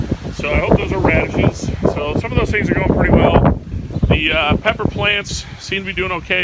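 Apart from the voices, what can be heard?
wind blowing into microphone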